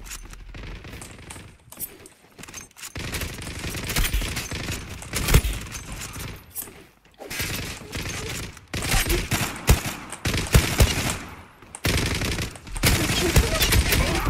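PUBG gunfire in a battle royale match, rapid automatic bursts and single shots crackling loudly and repeatedly across the stretch, with brief pauses between volleys.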